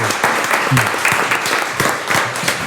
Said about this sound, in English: give these kids a huge round of applause for an outstanding season